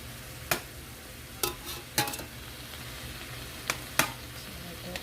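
Crushed tomatoes and garlic sizzle in a pot for fideo soup, a soft constant bubbling broken by several sharp scrapes and clinks of a utensil against the pot.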